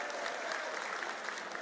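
Crowd at a political rally applauds steadily to welcome a speaker, a dense, even wash of many hands clapping throughout with no talk over it.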